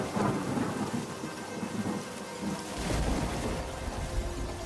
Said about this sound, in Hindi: और बारिश शुरू हो गई